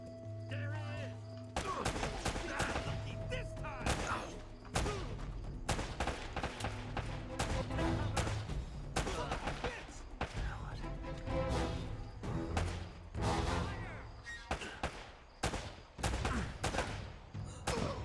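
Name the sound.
gunfire and grenades in a shooter video game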